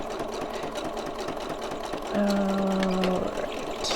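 A sewing machine stitches slowly through slippery plastic while a fold-over double pocket is made, its steady mechanical whir rising from about two seconds in and running alone for roughly a second before stopping, with faint room noise around it.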